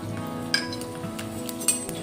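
Chopped garlic and sesame seeds fry in hot oil with cumin, giving a soft steady sizzle under two sharp metallic clinks of a utensil against the pan.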